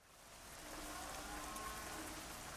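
Heavy rain set high in Euro Truck Simulator 2 hisses as a steady wash that swells over the first second and then holds, soft and even with no voices.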